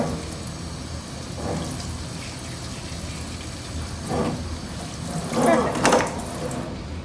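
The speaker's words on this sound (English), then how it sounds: "I need to water the plant anyway" Water pours from a small container onto a potted plant growing on a wet moss pole, giving faint trickling and splashing that swells in short bursts, with the strongest pour near the end.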